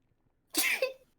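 A single short sneeze bursts out of near silence, close and sharp, with a quick second catch at its tail.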